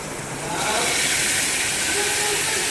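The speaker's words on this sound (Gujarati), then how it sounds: "આ અડદ વઘારાય" Urad dal tempering in hot oil, a loud steady hiss that swells in after a quieter start and sizzles continuously close up.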